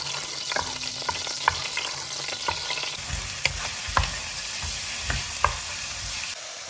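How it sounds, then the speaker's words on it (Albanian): Onion, carrot and ginger frying in a pan give a steady, close sizzle, and occasional sharp clicks and knocks of stirring rise above it. Nobody talks. "Do t'i hedhë edhe pak ginger, që do t'a skuq me qepën"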